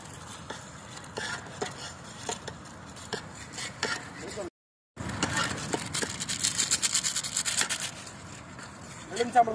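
A spoon stirs and scrapes ginger garlic paste in a cooking pot at an outdoor riverside cookout, giving soft repeated scrapes and clinks with a short silent gap.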